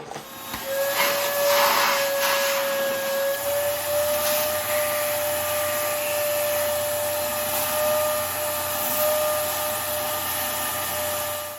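A grinder whines steadily while pushrods are shortened, a sustained hissing, humming drone with a fixed tone, loud and close throughout, with no talking.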